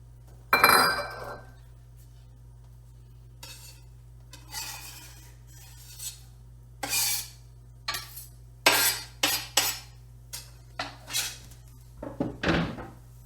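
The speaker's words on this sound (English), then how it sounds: "I'm going to put my potatoes and my leeks in at the same time" Potatoes and leeks going into a hot pan for a frittata, a series of close clinks, thunks and scrapes of utensils against the pan, spaced irregularly over a low steady hum.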